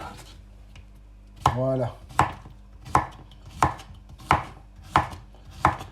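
Knife chopping a vegetable in half on a cutting board while vegetables are prepared for a grilled vegetable salad: a series of sharp, close chops at a steady pace. The first stroke rings out longer, and a voice speaks briefly at the start.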